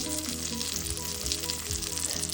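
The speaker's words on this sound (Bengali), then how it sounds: "এই তো বেগুন ভাজা হচ্ছে," Eggplant slices sizzle and crackle steadily in hot oil, a close, continuous frying sound.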